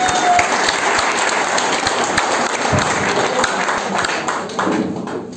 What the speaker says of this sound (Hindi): फोटो जोरदार ताली होना चाहिए।